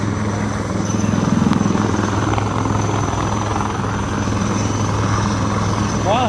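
A rescue helicopter carrying out a flood disaster evacuation thrums with a steady, loud rotor drone throughout, while people talk underneath.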